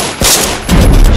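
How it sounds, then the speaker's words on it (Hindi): Pistol gunshots from a movie trailer for an Indian film: a sharp crack followed by a burst of loud, rapid gunfire with heavy low-end booms, dense and continuous to the end. "और चल पड़ी पिस्तौल की गोलियां।"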